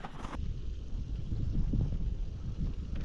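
A cold winter headwind buffets a cyclist on the road, a loud, gusty low rumble of wind noise that continues throughout.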